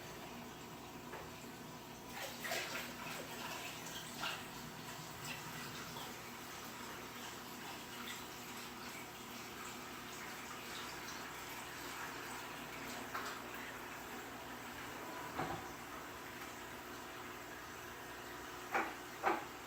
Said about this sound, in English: The sump is filling up.